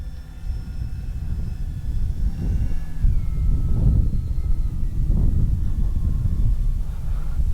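An E-flite Beechcraft D-18 radio-controlled scale model plane passes overhead with a steady electric motor whine that swells and shifts in pitch, heard over continuous wind buffeting and low rumble outdoors.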